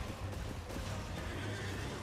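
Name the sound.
horse neighing in the video game Elden Ring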